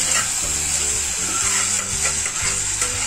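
Cooked rice being stirred into milk in a pan for Marathi-style rice kheer with dry fruits, giving a steady wet sizzling and stirring sound, close and continuous, with faint background music.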